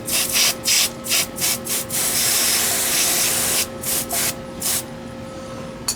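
Briggs and Stratton pressure washer spraying a surface in a hissing wash, with short bursts early and late around a longer continuous spray in the middle, close and fairly loud over a steady engine hum.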